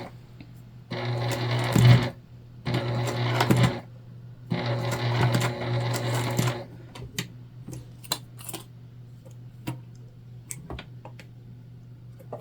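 A sewing machine stitches a Christmas tree fabric pouch in three rapid whirring bursts of a few seconds each, followed by lighter clicks and handling of the fabric.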